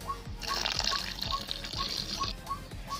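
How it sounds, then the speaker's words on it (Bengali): Water poured into a bowl of mango paste and mustard paste for aam kasundi, a steady close trickle running for about three seconds with soft repeated taps alongside. "আর এখানে আমি পরিমাণ মতন জল দিয়ে দিচ্ছি।"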